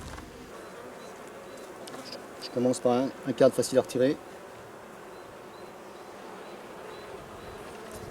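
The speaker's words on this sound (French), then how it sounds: "Donc on voit la différence, il y a beaucoup moins d'abeilles." Honeybees buzz steadily at an open hive during a spring inspection, a constant droning hum, while a person speaks briefly partway through.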